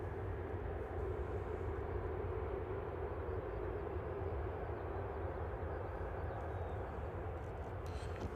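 An airliner lines up for departure at Manchester Airport, its engines a steady, broad, continuous roar heard from a distance and holding even throughout, with no talk over it.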